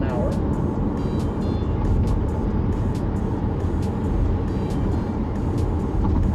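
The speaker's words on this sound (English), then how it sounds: "So right now we're doing about 100 kilometers an hour." Steady road and engine noise from a car cruising at about 100 km/h during a typical morning drive, continuous and fairly loud, with tire rumble and wind filling the cabin while a voice talks over it.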